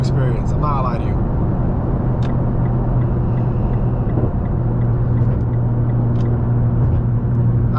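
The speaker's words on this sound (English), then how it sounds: "Downshifting and upshifting with these paddle shifters is awesome." Steady, loud engine drone from inside a tuned Nissan R35 GT-R as it shifts up and down through its paddle-shift gearbox, with a continuous low rumble throughout.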